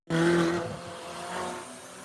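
A Ferrari sports car, a 458 or 488, roars past at the Nürburgring in one loud, close sweep that fades quickly as it moves away.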